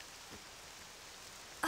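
Rain falls in the video game Octopath Traveler 2, a brief soft, even patter that ends in a sudden louder burst.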